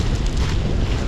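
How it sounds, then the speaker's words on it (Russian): Sea waves on the beach at Adler, a loud, continuous wash of surf with wind buffeting the microphone, close and steady with no voices. "Волны."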